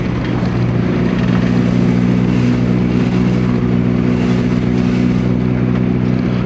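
A long-neglected Geo Tracker drives along a road at low speed, its engine holding a loud, steady drone with a constant hum and road rumble beneath.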